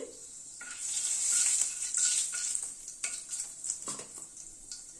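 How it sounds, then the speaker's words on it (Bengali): Half a spoon of fenugreek seeds hits hot ghee over a low flame, crackling and sizzling close by, with a spoon stirring and scraping the pan in irregular bursts. "1/2 চামচ মতো মেথি ফোড়নে দিলাম।"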